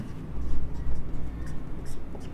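Marker or chalk writing a chemistry formula on a board during an organic chemistry lecture, a few short scratchy strokes in quick bursts with low room noise.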